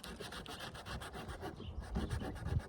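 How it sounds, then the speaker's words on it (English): Steady rasping rub of sandpaper working over a painted wooden frame, a continuous scratchy back-and-forth texture that grows a little louder and coarser toward the end, close and alone. "So that needed to be sanded right there"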